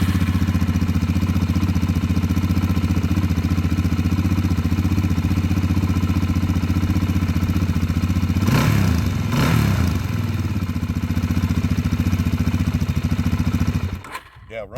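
A 2007 Suzuki DRZ400S motorcycle engine runs at a steady close idle, with a brief rev midway. The engine cuts off abruptly near the end.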